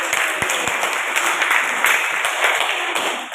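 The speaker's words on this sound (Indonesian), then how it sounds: "Beri tepuk tangan buat kelompok 1." Students in a classroom clap for a student group after its discussion, a dense, even round of applause that fills the whole moment with a few sharper claps near the start.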